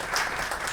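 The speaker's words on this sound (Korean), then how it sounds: "모두 큰 박수 부탁드리겠습니다" A brief burst of audience applause at a public diplomacy forum panel in Jeju, many hands clapping together in a dense, even wash with no voices over it.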